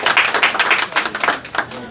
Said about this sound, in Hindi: भरपूर तालियां बजाइएगा।